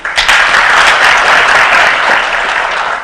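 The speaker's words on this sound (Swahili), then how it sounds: "Mpigie rais makofi." A crowd applauds the president of Kenya, a loud, dense burst of clapping that swells quickly and holds steady for a few seconds, close and filling the space.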